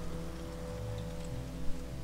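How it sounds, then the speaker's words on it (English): Steady rain falling in the Morrowind video game world, a soft, even patter and wash over a low ambient hum, fairly quiet and continuous with no talk. "And it's raining."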